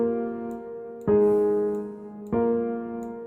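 Simple synth chords from FL Studio hold for about a second each, changing twice. The tones are soft, sustained and harmonically rich, and they play alone.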